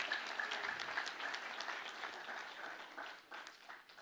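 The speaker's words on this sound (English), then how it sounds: "Kindly a round of applause." Steady round of applause from a crowd during a gift presentation at a forum and expo at the University of Nairobi, a continuous wash of many hands clapping at moderate distance throughout.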